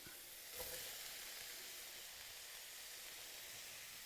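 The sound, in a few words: potatoes and carrots added to sizzling onions in pan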